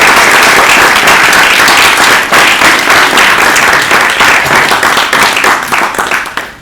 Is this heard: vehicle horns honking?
no